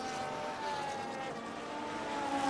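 Formula 1 cars in F1 25 at Melbourne hum past with a steady, high engine whine under a constant broadband rush, moderately loud, with no voices.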